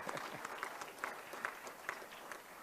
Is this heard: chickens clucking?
no